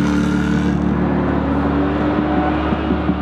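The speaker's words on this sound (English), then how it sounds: "First thing I noticed about the car is the kind of roar of it." A Jaguar sports car's engine roars loudly and steadily from close by, a deep sustained rumble with a faint whir above it.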